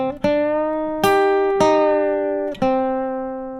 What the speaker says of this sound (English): It has kind of a pedal steel sound.